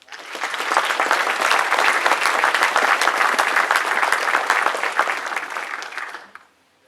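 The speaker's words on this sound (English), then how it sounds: "Please join me in saying thank you with a round of applause." Sustained audience applause at an ALS graduation ceremony honoring commanders and supervisors, a dense steady wash of many hands clapping for about six seconds before cutting off abruptly.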